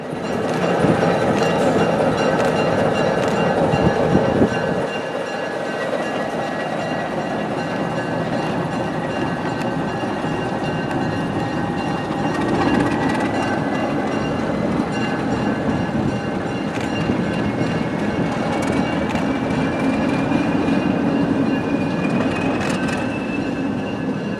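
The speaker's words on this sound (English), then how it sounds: "As the Conrad crew backs the train onto the other cuts of cars" A freight train pulled by an ALCO locomotive backs slowly and continuously onto cuts of railcars in a switching yard, with a heavy rumbling drone, occasional metallic clanks and a thin rising wheel squeal.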